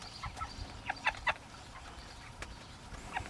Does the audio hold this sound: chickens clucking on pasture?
yes